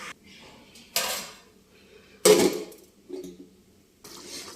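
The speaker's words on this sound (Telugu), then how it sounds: "ఇప్పుడు మూత పెట్టుకుందాం." A metal lid is set onto a pot of dum pulihora, with several close clattering knocks and scrapes separated by brief pauses.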